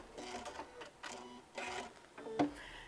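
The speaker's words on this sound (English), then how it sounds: "I'm going to now stitch again, back stitch here" Sewing machine back stitching fabric for storage pods in several short, close mechanical bursts separated by brief pauses, ending with a sharper clack.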